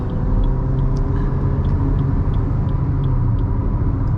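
A Toyota Glanza AMT cruises at 120 km/h in top gear at about 3000 RPM, with a steady, loud low road and engine rumble heard from inside the cabin.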